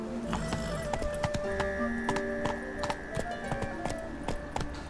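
A horse gallops in the video game The Witcher 3, with steady rapid hoofbeats running throughout over a backdrop of game music tones.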